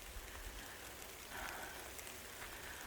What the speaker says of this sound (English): because it's really raining now